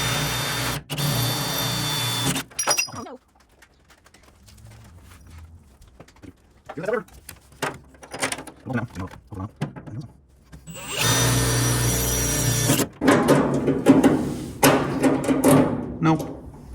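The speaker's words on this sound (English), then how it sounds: "but then drill these 2 holes" Power drill boring two holes, two loud whirring bursts at the start and end separated by a quieter stretch with talking and light handling noises.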